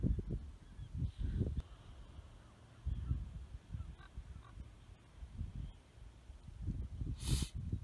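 Gulls call repeatedly at a distance, honking squawks in scattered bursts over faint outdoor ambience, with one sharper cry near the end.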